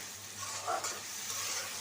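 Onions and tomatoes fry in a pan for a low-oil, lightly spiced chicken curry, giving a steady close sizzle with a brief stirring scrape midway.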